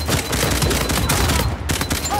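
Rapid pistol gunfire from Uncharted 4 multiplayer crackles in a dense, loud burst of shots with short pauses, sounding close and harsh over game ambience.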